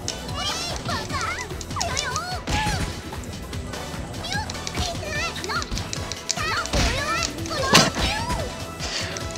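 Slap attacks in the PlayStation 2 fighting game Fighting Angels: repeated sharp smacking hits and crashes over squealing, high-pitched character voice effects, with a person talking over the busy, continuous game noise.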